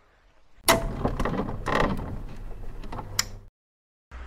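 Rear door of a Maybach 62S swinging open: a sharp latch click, then a sustained mechanical creak and whir as the large heavy door moves, a final click, and silence; close and fairly loud, no talking.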